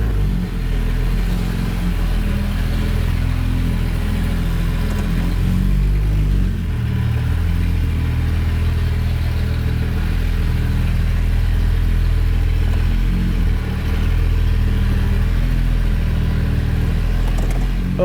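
A Honda Pilot engine idles with no exhaust system or catalytic converter fitted, giving a loud, steady, close-up rumble with a raw mechanical clatter that holds at a constant level throughout, with no talk.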